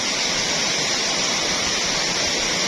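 Dense, roaring rush of a waterfall heard up close, a loud continuous wash of falling water with no breaks.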